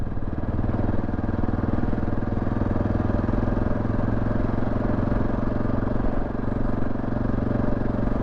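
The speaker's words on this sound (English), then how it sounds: "They probably don't want to hear me motoring behind them." Motorcycle riding along a busy road, its engine a steady close drone with a faint rattle that holds at one even level the whole way, with no talking.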